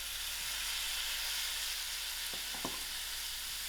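Tomatoes cooking in a pan of masala-coated dal make a quiet, continuous sizzle, broken near the end by a couple of brief stirring knocks, with no voices.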